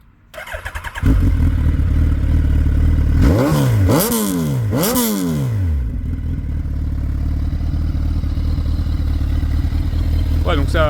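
A Suzuki B-King motorcycle with a Hayabusa engine cranks and catches, settles into a loud idle, then revs sharply twice before dropping back to a steady rumble.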